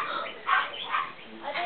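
A dog gives a few short yips and whimpering barks in quick succession at close range, mixed with people talking.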